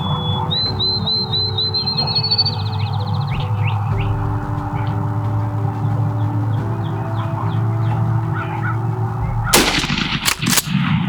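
A single loud gunshot at a turkey cracks out near the end, breaking a steady outdoor ambience of birds and a low hum, with a sharp echoing tail.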